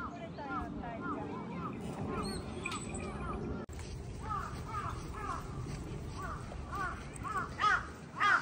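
Many crows caw repeatedly in Osaka Ryokuchi Park, harsh calls overlapping at a moderate distance over a steady outdoor rumble, with a voice talking faintly underneath.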